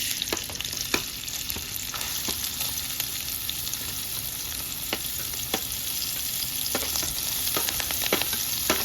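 Onion, carrot and beans frying in hot oil for pepper egg noodles, a loud continuous hiss and crackle with occasional sharp clicks of a stirring spoon against the pan.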